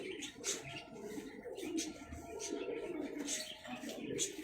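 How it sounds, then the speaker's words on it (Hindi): A Rampuri pigeon cooing softly in a loft, faint low repeated coos with brief higher chirps from nearby birds. "ये रामपुरी कबूतर है।"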